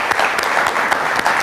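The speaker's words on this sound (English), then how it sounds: "Let's give her a round of applause." A school audience applauds the principal and coach, a loud, close, dense burst of many hands clapping with a few sharper individual claps standing out.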